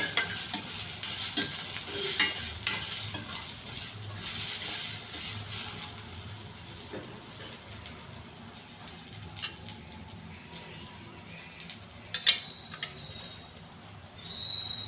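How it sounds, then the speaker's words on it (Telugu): Coconut, chana dal, tamarind, onions and green chillies frying together in a pan, a continuous sizzle broken by repeated scraping and stirring strokes, with one sharper clink near the end. "కొబ్బరి, పచ్చెనగపప్పు, చింతపండు, ఉల్లిపాయలు, పచ్చిమిర్చి ఇవన్నీ బాగా వేగించాలండి."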